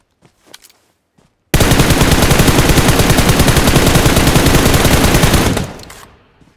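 Sustained automatic gunfire in PUBG Mobile, a loud, dense burst of rapid shots lasting about four seconds before cutting off, with faint sounds before it.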